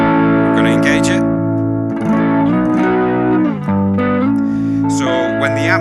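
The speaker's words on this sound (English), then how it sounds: "So when the amp change happens, the JC120's got the chorus on it." Electric guitar played through a Roland JC120 amp with chorus and some reverb, loud sustained chords with a shimmering wavering tone that rise and fall in a few phrases.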